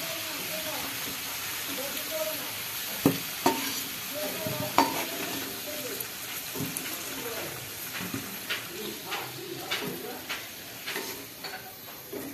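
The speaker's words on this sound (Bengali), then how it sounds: "আমার আলুটা ভাজা হয়ে গেছে" Potatoes fry in hot oil for a home-style Kolkata chicken biryani, a continuous sizzle broken by sharp clacks and scrapes of stirring, close and steady, with a voice speaking over it.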